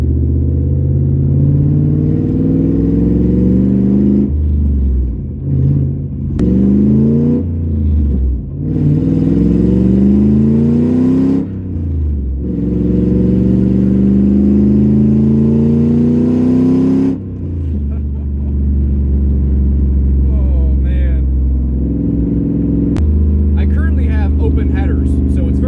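BMW E46 fitted with a swapped S62 V8 engine driving along, its smooth engine note rising and falling through gear changes, steady and close, with someone talking over it.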